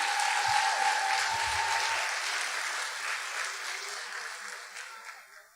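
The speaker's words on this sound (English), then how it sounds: "Can you give them a round of applause?" Applause at a basic school graduation ceremony, a dense wash of clapping from the gathered audience that starts loud and gradually fades out.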